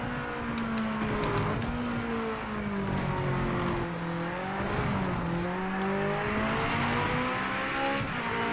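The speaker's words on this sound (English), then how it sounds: "This car sounds like a racing car." A hypercar engine in the racing game Project Motor Racing revs loudly and continuously, its pitch climbing and dropping through quick gear changes, with faint tire noise underneath and no voices.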